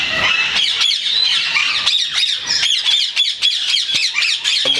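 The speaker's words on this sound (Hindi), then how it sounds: "ये इसमें जो है ना ये वाइट रिंग नेक का पेयर है" A breeding pair of white ring-necked parakeets squawk loudly and shrilly in rapid, repeated bursts close by, with no one talking.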